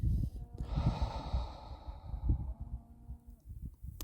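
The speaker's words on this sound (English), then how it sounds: "feel my belly breathing like a belly breath" Deep belly breaths during a guided breathing exercise come as a close, soft inhale and a long airy exhale, with faint low rumbling underneath and no speech.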